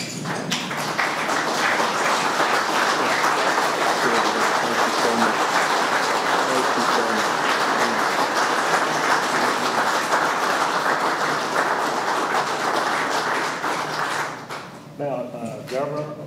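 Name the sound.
audience applause for a veteran's father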